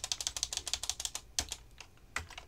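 Rapid, close keyboard typing, a fast run of crisp key clicks with a brief pause before a few more scattered taps.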